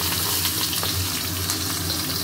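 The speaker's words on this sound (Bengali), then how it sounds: "এবারে দিয়ে দিচ্ছি পেঁয়াজ কুচি।" Chopped onion fries in hot oil with garam masala, bay leaf and dried red chilli, making a loud, continuous close-up sizzle with faint stirring.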